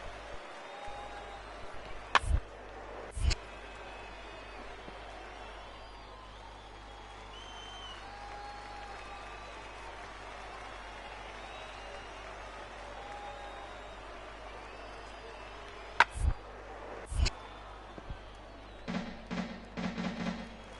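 Crowd reactions from a ballpark in the baseball video game MLB The Show 19: a low, steady stadium murmur, broken by a few bursts of cheering and applause that swell briefly before fading.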